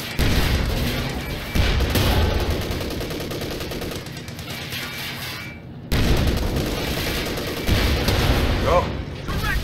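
Tank cannon fire in Company of Heroes 2, a Panzer IV trading shots with Shermans amid a busy urban battle, sharp booms repeating about every two seconds over layered gunfire and explosions, loud and close.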